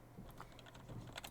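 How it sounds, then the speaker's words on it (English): Keys clatter on a computer keyboard, including the apostrophe key, in a quick run of faint clicks that ends in a pair of sharper taps, heard alone in a quiet room. "press apostrophe on my keyboard"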